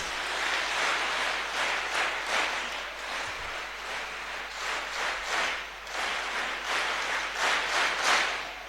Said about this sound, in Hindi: तीन बार तालियां बजाएंगे।